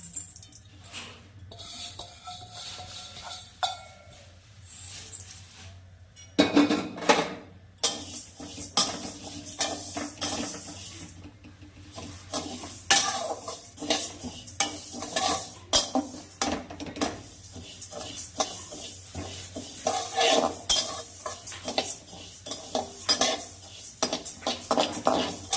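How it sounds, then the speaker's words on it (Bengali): Moong dal dry-roasts in a pan and a metal spoon stirs it throughout, giving close, busy scraping and clinking of metal on metal with a light rustle of grains, louder and denser after the first few seconds. "মুগ ডালটাকে শুকনো খোলায় ভেজে নেব"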